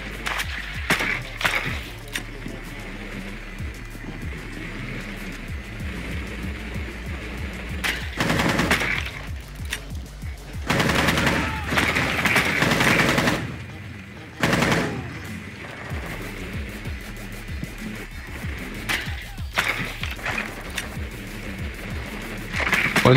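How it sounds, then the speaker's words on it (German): Rainbow Six Siege gunfire crackles in rapid automatic bursts and single shots, loud and repeated across the stretch, with heavier clustered volleys midway and a voice speaking faintly beneath. "Also ich glaube, auf euch wird geschossen, Jungs."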